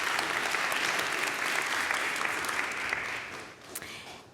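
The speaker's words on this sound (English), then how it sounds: "And so applause for our jury today." Audience clapping for the jury at a tech innovation startup competition semi-final, an even wash of applause held for a few seconds before tapering off with a few last claps.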